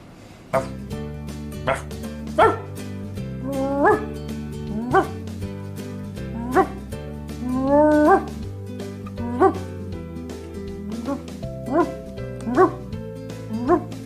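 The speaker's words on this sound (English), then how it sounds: "But there are more puppies." Puppies bark and yip in a lively, high-pitched chorus, with repeated short yelps and whimpers rising and falling close by over several seconds.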